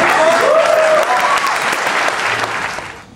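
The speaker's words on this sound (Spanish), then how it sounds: "Nosotros un aplauso, si quieren me callo." A concert audience breaks into sustained, loud applause, a dense wash of clapping that slowly fades toward the end, with a voice briefly audible over it at the start.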